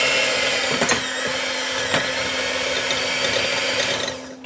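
An electric hand mixer whirs steadily as it churns a thick sausage ball mixture, a continuous close motor drone with a couple of brief knocks against the bowl and no talking.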